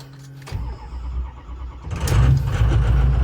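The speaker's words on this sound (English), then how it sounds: "Let's start the truck." A truck engine cold-starts after a quiet moment: a brief crank burst, then a steady low idle that swells louder and rougher near the end, close to the microphone with no talking.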